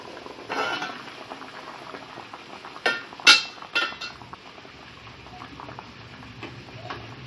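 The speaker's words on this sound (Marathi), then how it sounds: "त्यावर मी हे रोल उकडवायला ठेवलेले आहेत" Cabbage rolls steaming in a pressure cooker pot, a continuous bubbling hiss with a few sharp metallic clinks of cookware midway, close and moderately loud.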